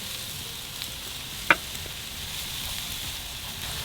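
Apples sizzle steadily with sugar in a hot pan, a soft continuous frying hiss with one brief sharp clatter near the middle.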